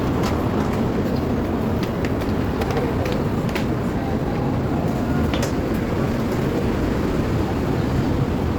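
A ride aboard an LRT light rail train heading to Sumulong, with a constant loud low rumble and rattle of the moving car throughout, plus occasional faint clicks and squeaks.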